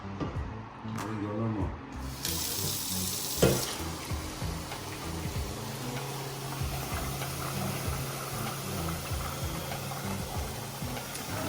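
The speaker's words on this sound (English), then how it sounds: "let's go ahead and add some water" Steady rushing water pours from a tap for several seconds, a continuous hiss with faint clatter and a brief knock partway through.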